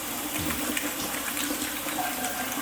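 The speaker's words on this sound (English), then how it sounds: "I'm just gonna first rinse my hands." Tap water runs steadily into a sink as greasy, buttery hands are rinsed, a close, even broadband wash with faint splashing changes.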